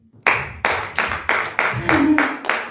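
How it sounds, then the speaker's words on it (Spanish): A church congregation clapping in a steady, unified rhythm, about eight sharp claps at roughly even intervals after a soft start, with a faint voice briefly underneath. "Denle un aplauso, hermano."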